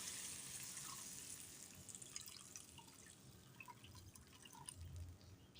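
Water pours and splashes softly into a pot of vegetable soup, a faint continuous trickle with scattered drips and bubbling.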